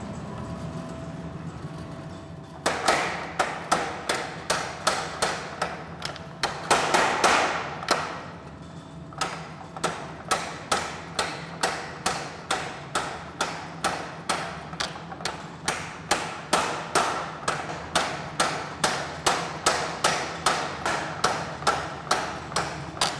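Steady, rhythmic hammer blows on hot steel ring out one after another as a blade is forged, with a short pause early on before the strikes resume at an even pace.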